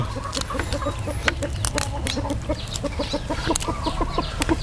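A flock of farm chickens clucks continuously nearby, a busy stream of short repeated clucks and chatter from several birds, with no one speaking.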